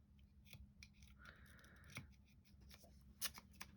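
A few quiet snips of scissors cutting string, separated by short pauses, in an otherwise hushed room.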